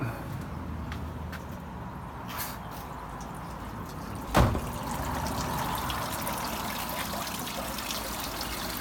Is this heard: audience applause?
no